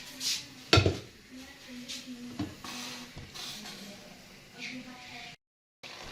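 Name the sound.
beef being transferred from cooker into a kadhai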